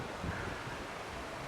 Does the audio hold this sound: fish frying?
no